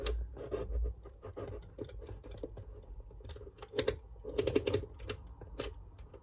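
A utility knife cuts around fabric on a vintage bed, giving short irregular scratching and scraping strokes. The strokes are close and fairly quiet, thicken into denser bursts partway through, and no one speaks.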